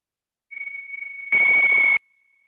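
A meditation timer bell rings as a steady, pure sustained tone. Partway through it swells into a louder, fuller chime for under a second, then fades to a faint lingering hum. No voices are heard.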